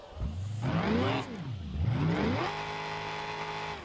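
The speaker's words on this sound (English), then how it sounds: "Now this motor is loud. She screams." A Ford Ranger truck engine in BeamNG.drive revs hard and loud, climbing and falling in pitch twice before settling into a sustained high scream, close and with no talking.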